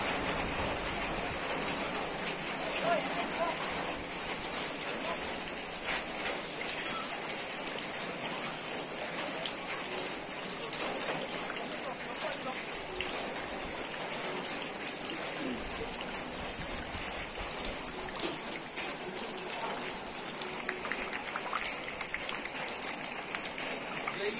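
Steady rain patters on surfaces, a continuous hiss with scattered louder drops, unbroken from start to finish.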